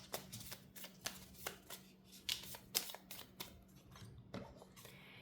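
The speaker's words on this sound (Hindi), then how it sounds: "मैं दोबारा कार्ड्स पिक करूँगी आप लोगों के लिए" Tarot cards being picked and handled for a pile reading: soft, close papery flicks and slides in uneven bursts, fairly quiet over a faint steady hum, with no talking.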